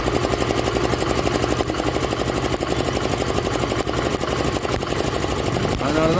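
Yamaha Ray BS6 scooter engine running with a misfire, a loud, steady, close mechanical clatter with rapid regular pulsing and no talk.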